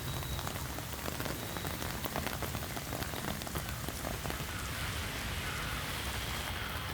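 Heavy rain pours down steadily in Pune, a dense, continuous roar of drops striking surfaces, with no voices.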